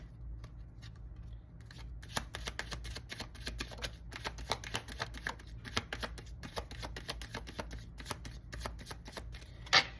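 Tarot cards being shuffled by hand, rapid dense riffling flicks in steady bursts, close and crisp, with a soft card snap near the end.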